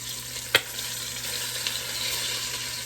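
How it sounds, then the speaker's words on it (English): Turkey wings browning in a pan sizzle and fry steadily, a close, continuous crackling hiss with a brief clatter of stirring near the start. "we're just going to brown them up so we don't have white turkey"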